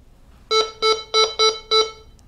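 A GMT 9000 Goldmaster 24K gold detector signals an aluminum, non-ferrous metal target with five loud, regular electronic beeps, followed by a brief silence.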